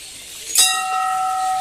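A single bright metallic temple bell strike at a Hindu temple rings out and then hums on in a long, steady ringing tone over a faint background hiss.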